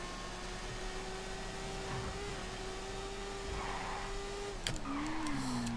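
In Grand Theft Auto V, a motorbike engine hums in a steady, even drone at a constant pitch while the bike is ridden. Near the end the pitch dips and rises again, and a faint wash of road noise runs beneath.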